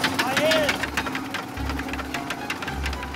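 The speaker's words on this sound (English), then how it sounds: "we revved the motor, banged the boat and splashed the water with a huge hook" Boat motor revved hard on a fishing trip in Vietnam, a loud rattling, knocking engine drone close by that rises and pulses, with people talking over it.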